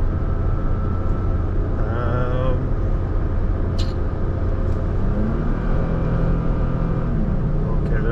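A Toyota Tacoma pickup drones steadily while towing up a mountain grade, its engine note shifting as the transmission downshifts; a continuous, fairly loud road and engine rumble with no talking.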